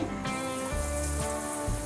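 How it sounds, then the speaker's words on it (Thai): Water from a bidet spray hose in a bathroom, the stop valve opened and the sprayer squeezed halfway, gives a strong, steady, close hiss of spraying water with no talking. "น้ำไหลแรงแรงมาก"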